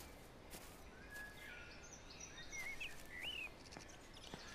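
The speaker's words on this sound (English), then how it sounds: "not all animals, if you think about it, because I could still hear birds and stuff." Faint, scattered bird chirps and short whistled calls float over a quiet hiss of outdoor ambience in the video game Everybody's Gone to the Rapture.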